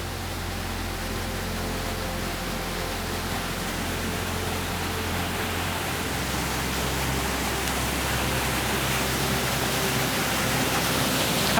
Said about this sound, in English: Waterfalls have this ability to draw us in and command our attention. Their sound, the spectacle of it all.